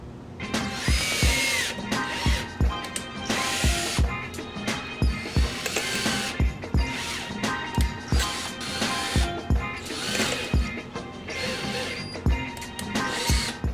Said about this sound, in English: I have to drill larger holes here, here, and here